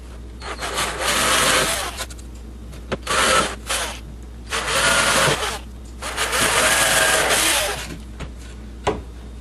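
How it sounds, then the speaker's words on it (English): A drill bit boring into plywood in loud, close, rasping bursts, about four long runs separated by short pauses and a few light knocks. "if you go all the way through with the drill bit, it's no big deal"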